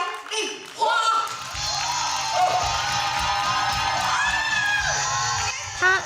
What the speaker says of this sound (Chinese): 掌声欢迎国宝杨丽花